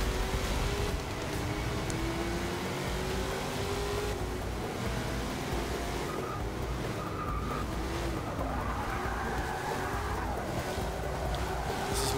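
A muscle car races around Spa at night in Forza Motorsport 6, its engine note rising and falling continuously through gear changes, moderately loud and steady with no talk over it.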